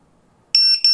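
ViFly Beacon drone beeper in alarm mode: quiet at first, then loud, shrill, high-pitched electronic beeps start abruptly about halfway through and repeat in quick bursts with a brief dip.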